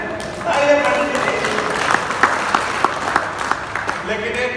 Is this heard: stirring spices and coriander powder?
no